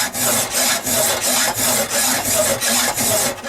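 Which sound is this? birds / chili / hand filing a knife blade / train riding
hand filing a knife blade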